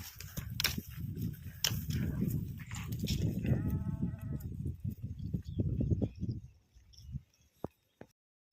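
A flock of sheep in a field, several bleating repeatedly at close range over a busy background of rustling movement and hoofsteps, fading toward near quiet at the end.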